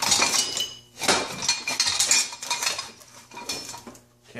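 Metal hand tools, including a box end wrench, rattle and clink as they are rummaged through in a workshop, with clustered bursts of jangling and brief pauses, close and fairly loud.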